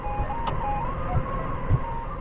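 A forklift hauling containers runs with a steady engine drone and a constant whine, with a few soft knocks and a brief clunk, heard close from a fork-mounted position with no talk.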